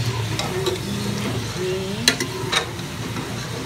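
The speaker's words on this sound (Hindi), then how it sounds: "एक और चम्मच चला दूँगी इसमें" A spoon stirs spiced chicken with green spice and white pepper in a hot pan, steady sizzling under a few sharp scrapes and taps of the spoon against the metal, close and moderately loud.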